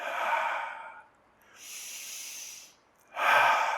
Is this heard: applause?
no